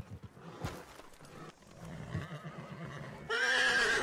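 A horse in Red Dead Redemption 2 gives a loud whinny near the end, preceded by hoof clip-clops, snorts and quieter movement.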